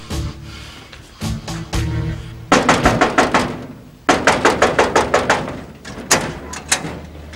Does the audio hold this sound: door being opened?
yes